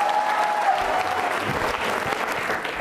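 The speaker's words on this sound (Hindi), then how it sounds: "तालियां जोरों से बजाइए।" A crowd applauds steadily and loudly, many hands clapping in a dense, continuous roar that holds for a few seconds.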